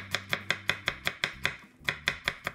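A knife chops garlic finely on a cutting board in rapid, even strokes, about a dozen crisp close knocks with one brief pause partway through.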